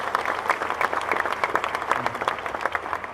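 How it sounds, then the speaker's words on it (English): A crowd applauds donors at the unveiling of the Archie Griffin statue at Ohio Stadium, with dense, steady clapping that holds evenly for the full stretch. "Let's give our donors who made this possible a round of applause"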